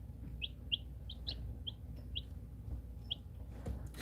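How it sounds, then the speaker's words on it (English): Several short, high chirps from young chicks of four breeds sound in a loose series over a low rumbling background, fairly faint, peeping nearby. "These are all 4 different types of chickens here."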